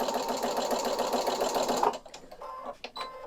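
A sewing machine stitches through lightweight foam interfacing, a close, loud continuous mechanical whirr for nearly two seconds, then stopping into a few quieter clicks and handling noises.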